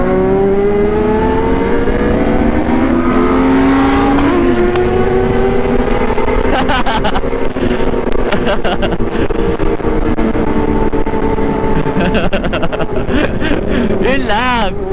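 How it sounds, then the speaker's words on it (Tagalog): A Honda CB400 Version S motorcycle engine running loud and close at a superbike show, revving and rising in pitch with a buzzy, high-strung tone, with people talking over it. "CB400 version S, ang bubuyog na motor."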